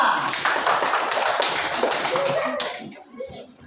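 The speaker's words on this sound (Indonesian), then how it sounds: "Tepuk tangan." Schoolchildren in a classroom clap their hands in a quick burst of sharp, close slaps that fades out near the end, with voices mixed in.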